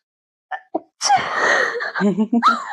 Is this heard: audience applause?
no